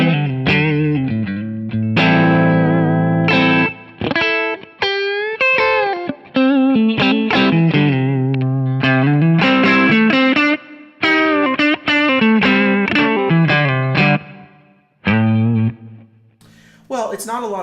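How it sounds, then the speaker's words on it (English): Electric guitar through a Kingsley Minstrel overdrive pedal and a Fender-style amp profile, with lightly broken-up chords and melodic runs played loud and close, with a brief gap near the end. "let's hear how the Minstrel sounds"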